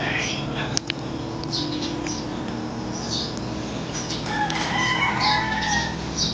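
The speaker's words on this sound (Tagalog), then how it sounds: "Tumitilaok pa ang manok." A rooster crowing near a newly moved-into house at daybreak, a clear crow rising partway through over steady background noise, with a few clucks and faint sounds around it.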